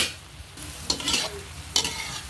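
Adobong sitaw, string beans, stirred in a pan, with soft scraping strokes and a couple of sharper clinks over a faint sizzle. No voices.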